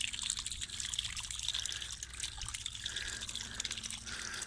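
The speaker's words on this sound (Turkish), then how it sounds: "Su. Kayadan arasından süzülüyor." Water trickles and dribbles through gaps in rocks outdoors, a soft, continuous wet burble with faint splashy flickers, fairly quiet and heard without any talk.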